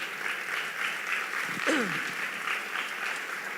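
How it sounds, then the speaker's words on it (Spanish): A church congregation applauds, a dense, steady wash of many hands clapping together at moderate volume, with a brief voice heard partway through. "Denle un aplauso al Señor."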